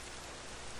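Steady rain falls in a dinosaur survival video game, a close, even hiss of raindrops with no breaks, heard alone for under a second.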